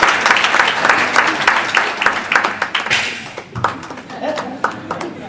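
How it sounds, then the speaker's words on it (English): Audience applause at a stage performance, close and lively with sharp individual claps, loud at first and then thinning out, with voices mixed in. "Big round of applause, ladies and gentlemen."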